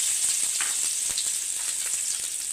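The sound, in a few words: chopped vegetables frying in oil in a wide pan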